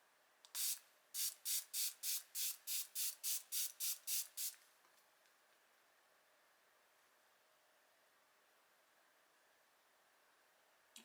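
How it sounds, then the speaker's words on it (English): A Physicians Formula makeup setting spray bottle is spritzed about a dozen times in quick, even bursts, each a short sharp hiss up close, followed by near silence. "So now we're going to use this Physicians Formula setting spray."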